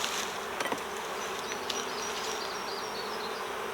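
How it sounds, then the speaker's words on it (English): Honeybees swarm over a hive frame covered with young brood during a hive inspection, a steady close buzzing hum with scattered louder passes from individual bees and no talk. "This frame has a lot of young brood and covered with bees."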